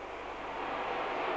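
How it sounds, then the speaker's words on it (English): A fixed-wing airplane passes overhead during a 1988 second-grade grand final, its steady broadband engine roar rising slightly across the moment and filling the scene with no voices heard. "Can't hear you, the plane's too loud."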